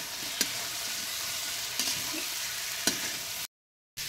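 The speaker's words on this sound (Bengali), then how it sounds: "এবার নেড়েচেড়ে কাঁঠাল, আলু আর মশলার সাথে মিশিয়ে দেবে।" Boiled potato and jackfruit stirred in a pan of frying spices, a steady close sizzle with three light spoon taps against the pan, and a brief silent gap near the end.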